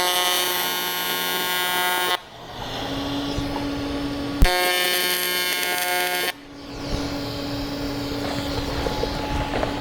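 AC TIG welding arc on aluminum with a lanthanated tungsten, striking a quick tack without filler rod: a steady loud buzzing hum that cuts out twice, with quieter gaps between the bursts.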